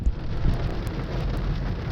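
Heavy rain drums steadily on a car during a drive on the wildlife loop in Custer State Park, a dense, even patter close by with no voices.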